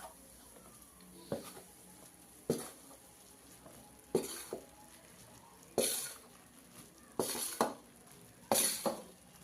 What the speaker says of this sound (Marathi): याला आपण चांगलं भाजून घेऊया गॅस मी मंदच ठेवलेला आहे